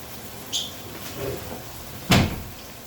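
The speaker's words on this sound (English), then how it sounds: "Let me shut the door." A home kitchen door is shut with one firm thud, preceded by a few lighter clicks and knocks against quiet room background.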